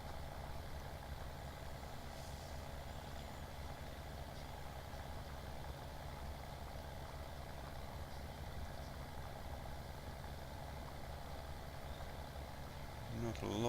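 A tractor engine drones steadily as it works a field and slips sideways on a slope, a continuous low rumble at even loudness throughout.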